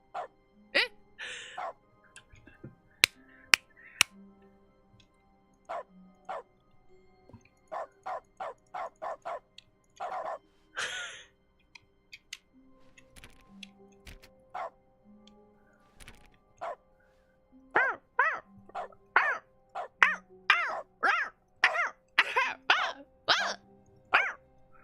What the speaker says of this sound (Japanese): ワンワンモードは私は好きだけどうるさいですね。